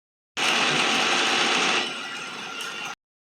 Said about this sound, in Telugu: అన్నీ మిక్సీలో వేసుకొని నున్నగా గ్రైండ్ చేసుకో.